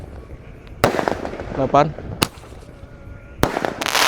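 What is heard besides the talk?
firecrackers and fireworks being set off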